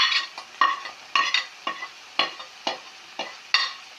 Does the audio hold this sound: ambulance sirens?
no